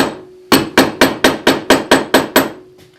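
A mallet strikes a chisel carving wood volutes on chair handholds, nine evenly spaced sharp knocks in quick steady rhythm, close and clear with no talking.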